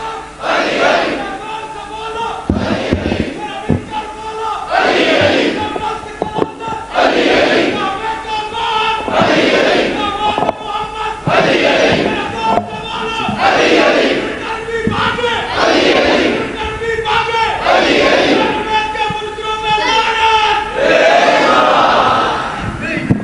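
A large congregation at a majlis loudly chants salawat in unison, with strong, rhythmic phrases repeating roughly every two to three seconds and filling the space from start to finish.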